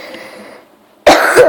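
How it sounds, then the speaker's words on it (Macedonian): A single sharp, loud cough bursts out close to the microphone after a quieter stretch. "Ама кашлам, леле."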